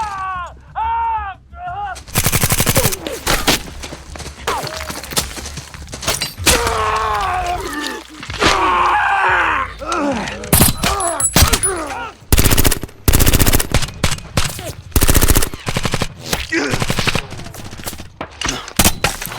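Gunfire in a fight scene from The Punisher: repeated loud bursts of shots and heavy blasts in rapid, irregular volleys, with dramatic music and brief shouting between them.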